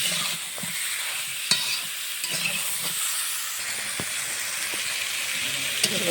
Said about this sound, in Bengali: l ব ণ দিয়ে দিলাম হলুদের গুঁড়ো সুন্দরভাবে লবণগুলো ভেজে নেব